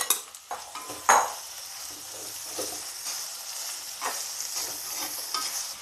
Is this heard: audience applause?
no